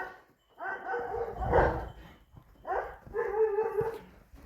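A dog barks and whines a few times, fairly close, in two harmonic bursts with brief quiet between them.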